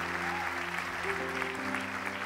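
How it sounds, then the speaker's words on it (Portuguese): Continuous applause from a church congregation, a dense wash of clapping with a faint musical tone sustained underneath. "Um aplauso a Deus"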